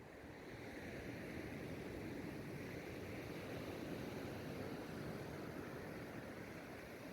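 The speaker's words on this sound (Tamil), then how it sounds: "The restless sea earns its name as one of the most turbulent sections of coastline in Pebble Beach." Restless sea waves churn along the turbulent Pebble Beach coastline, a steady broadband wash of surf that rolls continuously at moderate distance with no voices.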